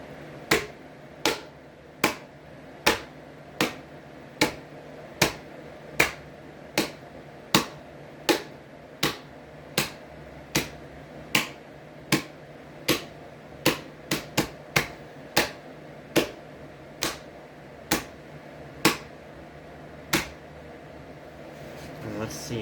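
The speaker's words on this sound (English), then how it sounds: "And just start clapping." Hands clapping against a warped ceiling fan blade, a long series of single sharp slaps at a steady, roughly one-per-second rhythm, with a quick cluster in the middle, over a low room hum.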